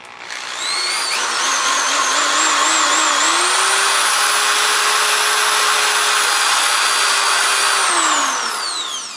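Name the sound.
drilling into a Merr-Sonn Power 5 blaster kit part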